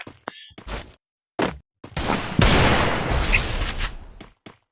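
Sharp, separated bursts of gunfire from a shooting video game, some short single cracks and one longer sustained volley, with silent gaps between them.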